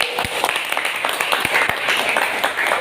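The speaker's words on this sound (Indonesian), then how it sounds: "tepuk tangan dulu" A small classroom audience of vocational automotive teacher trainees claps together at the end of a presentation, a dense, steady patter of many hands with a few louder close claps, lasting a few seconds at moderate level.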